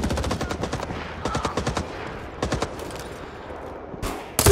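Bursts of automatic gunfire from the Vietnam War video game Rising Storm 2: Vietnam, heard as rapid rattling volleys in several clusters, with a sharp, loud blast at the end and no talking.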